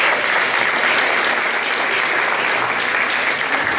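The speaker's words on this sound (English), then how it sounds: "So good applause for Ashley." A school assembly hall fills with loud, sustained applause for Ashley, many hands clapping in a dense, uniform roar that stays constant from start to finish.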